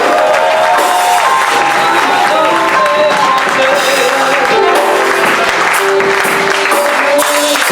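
A church congregation cheers and applauds loudly to acclaim the king during a thanksgiving service, with sustained dense clapping and whoops filling the room, and voices mixed into the crowd noise throughout.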